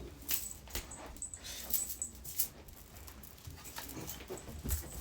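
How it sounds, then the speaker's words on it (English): A new little puppy whimpers and whines faintly in a home, with soft scattered yelps and pattering movement over a quiet background. "Sorry, I've got a new little puppy."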